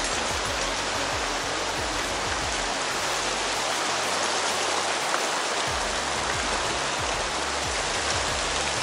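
Water rushes steadily through an irrigation canal in rural Peru, a loud, continuous broadband wash with no pauses and no voices.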